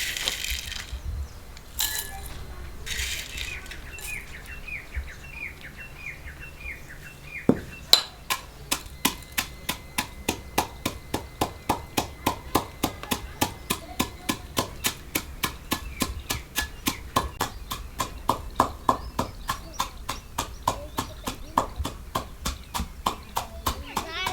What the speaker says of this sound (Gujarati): આપણે આ મરસાં ને લીલા મરસાં લસણ આદું એવું બધું આમાં જ ખાંડીએ છીએ